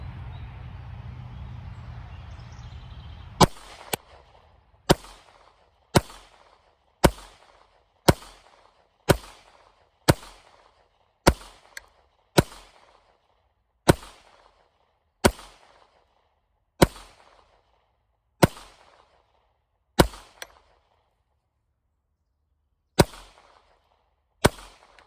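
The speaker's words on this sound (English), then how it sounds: "I have a bowling pin set up down there that I'm just shooting at" A pistol fires at a bowling pin downrange, roughly a dozen sharp, loud single shots at uneven intervals of one to three seconds, each trailing a brief echo, with a low rumble before the first shot.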